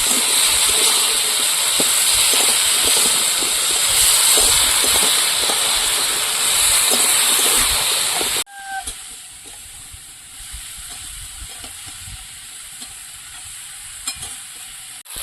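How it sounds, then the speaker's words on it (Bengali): Water taro (kochu) being sautéed in a pan, with a loud, steady hissing sizzle that cuts off sharply partway through, leaving faint scraping and quiet kitchen noise afterward. "এবার কচুটা ভালো করে কষিয়ে দেবো।"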